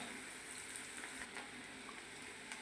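Bhajiya fritters made with khichdi fry in hot oil over low gas, giving a soft, steady bubbling sizzle heard throughout with no voices.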